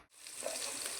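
Rice sizzling and frying in a pan with garam masala spices, poppy seeds and cashews, a steady close crackle running through a brief second with no voices.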